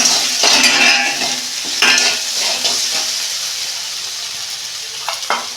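A small tomato drops into okra frying in a pan, setting off a loud, crackling sizzle with scraping stirs and bursts of spatter that settle into a steady hiss, no voices.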